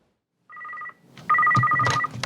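A telephone rings close by in two electronic trilling bursts, a short one followed by a longer, louder one, with faint background clatter underneath.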